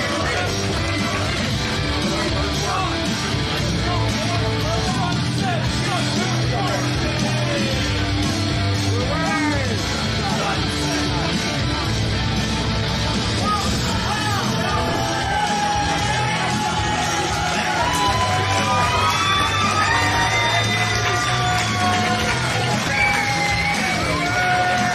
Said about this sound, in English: This crowd showing their appreciation for the deathmatch legend